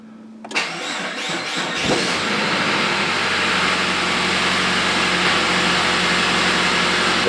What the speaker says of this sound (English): The car starts and runs like a champ.